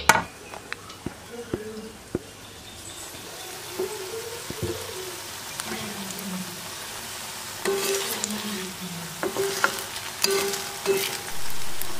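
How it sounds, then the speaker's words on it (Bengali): Fritters (bora) frying in a pan in a village kitchen, a steady soft sizzle with occasional clicks and stirring knocks, while birds coo and chirp nearby in the background. "তো বড়াগুলোকে সব ভেজে নিচ্ছি আর একটু বড় বড় করেই ভেজে নিচ্ছি"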